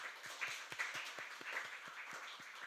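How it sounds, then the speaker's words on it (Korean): Church congregation giving a round of applause for its young working members, scattered, fairly faint claps heard at a distance in a quiet hall. "우리 직장 다니시고 일하고 있는 청년들 위해서 박수 한번 해주시기 부탁해요"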